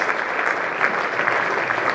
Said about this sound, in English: And now everyone's laughing and clapping